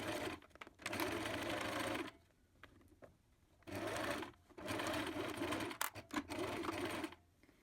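A sewing machine stitches fabric strips for a large patchwork tote bag in bursts of loud, close, steady mechanical whirring, three longer runs broken by quiet gaps and small clicks of handling.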